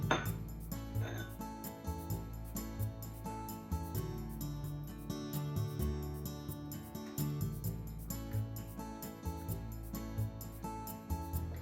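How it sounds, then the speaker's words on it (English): Mirin and miso stirred together in a bowl, with small utensil clinks and scrapes against dishware rising over a steady musical background that continues throughout. "Mix mirin and miso."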